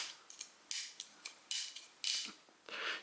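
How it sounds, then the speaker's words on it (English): Tight ratchet joints on a Unique Toys O-04 Siegfried transforming robot figure click sharply in separate bursts, about seven to eight close, crisp clacks with short gaps between them, with no talking. "You can hear how tight these ratchets are"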